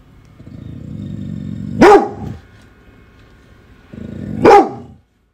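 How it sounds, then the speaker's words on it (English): Two loud dog barks, each a sharp burst with a growly tail, spaced a few seconds apart over a low rumbling background. "What are you barking at? What are you barking at?"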